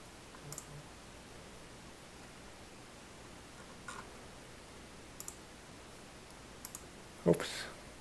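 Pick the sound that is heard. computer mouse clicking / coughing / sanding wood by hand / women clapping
computer mouse clicking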